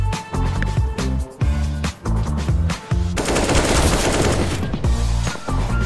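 Rapid bursts of automatic gunfire from a shooter video game, loud clattering volleys that build into one long sustained barrage, with no talking.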